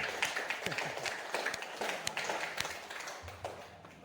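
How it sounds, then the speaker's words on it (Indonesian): A classroom of students claps hands together during a mathematics lesson, a loose burst of sharp claps with scattered taps that thins out toward the end, with a faint voice underneath. "tepuk tangan untuk kita semua dulu"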